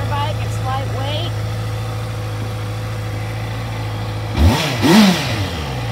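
A used 2014 Honda CBR 650F motorcycle idles with a steady low hum, then gets a couple of brief revs near the end; a voice speaks over the idle early on.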